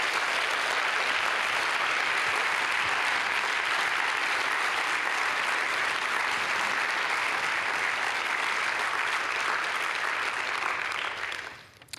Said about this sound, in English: So I would like to just applaud,